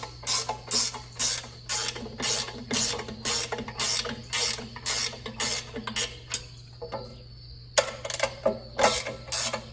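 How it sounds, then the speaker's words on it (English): A ratchet wrench loosens nylon nuts on the cutters of a Wood-Mizer sawmill, clicking in rapid rhythmic bursts up close, pausing briefly, then resuming the steady ratcheting. "you can't get your ratchet wrench out of there until you have them both loosened"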